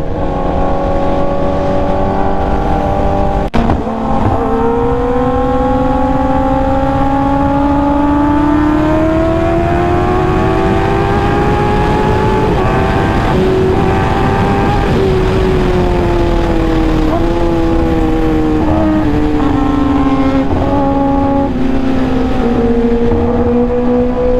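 A line of superbikes including a Kawasaki Ninja H2 riding on a road, a loud continuous engine roar with rising and falling pitch as the bikes accelerate and shift, close and steady throughout.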